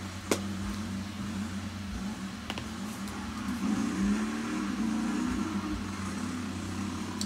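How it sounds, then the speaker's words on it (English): An old Datsun car engine turns over and runs after sitting unused for ages, a low rough idle that rises slightly as it revs, with a few sharp knocks. "I fired up the Datsun that had been sitting forever"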